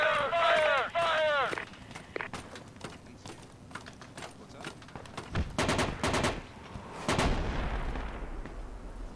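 Tactical Project Reality firefight with shouted voices, rapid gunshot bursts around the middle, and a heavier launch thump near the end as frag grenades are fired at urban building entrances.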